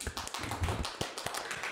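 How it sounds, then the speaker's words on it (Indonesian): Applause from a group of people during an Indonesian talk-show discussion, a short burst of fairly close, steady clapping lasting under two seconds with a few sharper individual claps standing out, no voices. "Tepuk tangan lagi."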